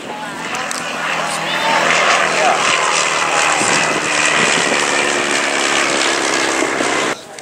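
A Miles Whitney Straight, a pre-war cabin monoplane, flies past at an airshow. Its propeller engine drones steadily for about seven seconds and cuts off abruptly at the end, with a commentator's voice running underneath.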